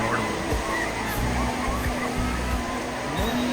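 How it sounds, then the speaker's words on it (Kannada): Teachers on a school tour splashing and playing in water, steady sloshing and rushing water noise with scattered voices and shouts mixed in. "ಎಲ್ಲರೂ ಸಹ ನೀರಿನಲ್ಲಿ ಆಟ ಆಡ್ತಾ ಇದ್ದಾರೆ ನೋಡ್ಬೋದು"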